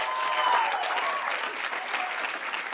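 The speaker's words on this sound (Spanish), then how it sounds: "¡No le aplaudan!" A television studio audience on a comedy karaoke show claps loudly and steadily, the applause filling the whole moment with a faint cheer mixed in.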